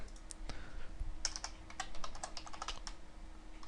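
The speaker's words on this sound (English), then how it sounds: "Go ahead and type public and enter." Code typed on a computer keyboard, a quick irregular run of close, crisp key clicks and taps, faint and alone without speech.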